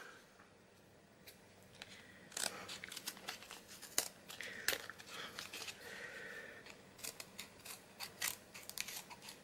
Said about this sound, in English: Let me just get my scissors